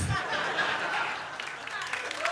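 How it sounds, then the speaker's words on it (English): Audience applause at a stand-up comedy special, a broad wash of clapping with scattered laughter and chatter, sustained and fairly loud before thinning slightly toward the end. "the obligatory clapping"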